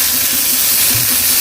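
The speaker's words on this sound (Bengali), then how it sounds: "পটলটাকে ভালোভাবে নেড়ে ভেজে নিচ্ছি" Pointed gourd (potol) frying in oil in a pan, giving a steady, dense hiss that stays level throughout with a faint low rumble underneath.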